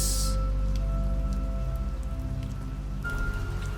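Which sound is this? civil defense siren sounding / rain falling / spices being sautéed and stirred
rain falling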